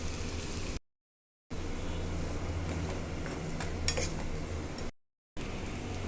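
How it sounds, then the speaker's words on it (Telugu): Onions, green chilies and curry leaves frying in hot oil for a dried shrimp and gongura curry, a steady close sizzle with occasional stirring and utensil clinks, cut by two short silent gaps. "అదే ఆయిల్లోనండి ఉల్లిపాయలు, పచ్చిమిరపకాయలు, కరివేపాకు వేసుకొని ఫ్రై చేసుకుందాము."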